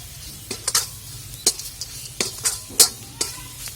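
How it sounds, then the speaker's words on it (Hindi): A spoon stirs coarsely pounded spices into stuffed bitter gourd in a pan, giving a series of distinct scraping strokes over a low, steady sizzle, close and moderately loud with no talking. "जो मसाले मैंने दरदरे कूटे हुए थे अब हम उसे इसी में डाल देंगे। इसे भी अच्छी तरह हम मिला लेंगे।"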